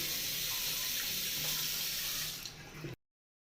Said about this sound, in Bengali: মুখটা ধুয়ে নিচ্ছি